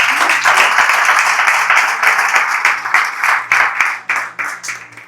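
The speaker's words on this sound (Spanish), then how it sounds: "denle el aplauso a Dios." A church congregation claps during a pastor's sermon, the applause dense and loud at first, then breaking into sharper, more distinct individual claps as it tapers.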